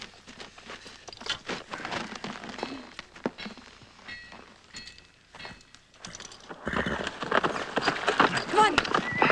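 Horse hooves clip-clop at a walk and trot on open ground in an Old West frontier setting, a steady uneven patter that grows louder and busier toward the end, with people talking over it.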